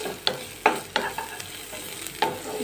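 Chopped ginger and garlic fry in a pan over medium gas flame for vegetable fried rice, a soft sizzle under several sharp spatula scrapes and taps spaced irregularly, close and fairly quiet.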